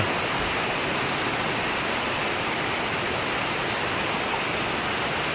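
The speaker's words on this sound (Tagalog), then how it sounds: "o tingnan nyo ang lakas ng ulan ang lakas talaga niya" Heavy rain pours down in a dense, constant roar of drops without a break.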